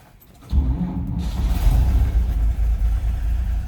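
A 1949 GMC 5-Window Pickup's engine cranks and catches, then settles into a steady low rumbling idle close by.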